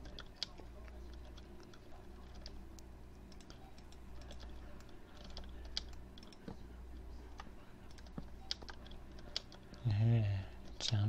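Computer mouse and keyboard clicks during a Minecraft survival game, a steady scatter of quiet taps and ticks close to the mic, with a low background hum and a brief burst near the end.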